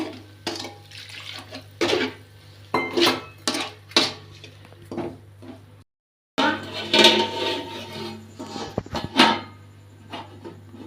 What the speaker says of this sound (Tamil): தண்ணி ஊற்றி நல்லா கிளறுங்க